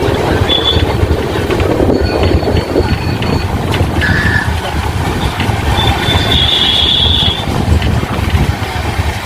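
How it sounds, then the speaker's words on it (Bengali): The Tebhaga Express, an LHB train, rolls loud and close through Madhusudanpur station, a steady rumble of wheels and wagons with high squeals of wheels on the rails rising at intervals. "আমাদের ট্রেন কিছুক্ষণের মধ্যেই ঢুকবে মধুসূদনপুর রেলওয়ে স্টেশন"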